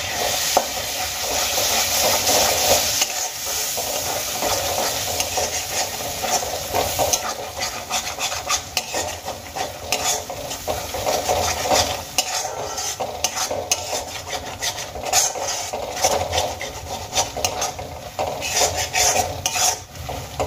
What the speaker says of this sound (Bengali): গুঁড়ো মশলাগুলো খুব ভালো করে এখানে আমি মিশিয়ে নিয়েছি